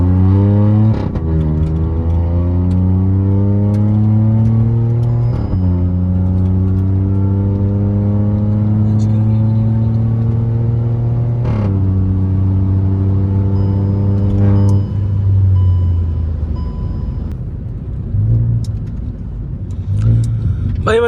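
A Hyundai i20 N Line accelerates hard in a 0-100 test, its engine note climbing loud and close through several gear changes, then easing off into quieter running.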